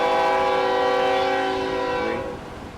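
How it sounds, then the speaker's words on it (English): A train passes close by, its horn blaring steadily over the rolling rumble of the cars before the sound drops away and fades as it moves off, with no talk. "train's coming in, everybody."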